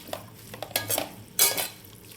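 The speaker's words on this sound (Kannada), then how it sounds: "ಇವಾಗ ಪಾಲಕ್ ಸೊಪ್ಪನ್ನ ಸೇರಿಸಿ ಸ್ವಲ್ಪ ಈ ಥರ ಮಿಕ್ಸ್ ಮಾಡ್ಕೋಬೇಕು" A spoon stirs spinach into onions frying in ghee in a pan, several short scraping strokes with soft clinks against the metal, fairly quiet and close, with no talking.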